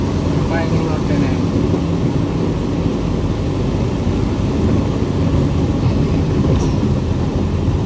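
A train rumbles past in a continuous loud, low roar with a steady rolling drone on a foggy road by an underpass, filling the whole stretch without pause.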